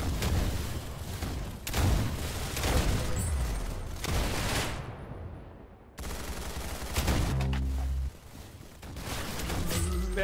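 Sustained gunfire from the shooter game Arsenal, dense overlapping bursts and booming shots rolling continuously with a brief gap mid-way, loud and alone without speech.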